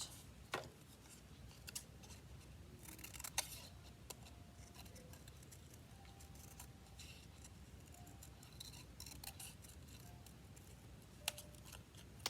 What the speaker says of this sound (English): I'm going to just cut the square shape out first.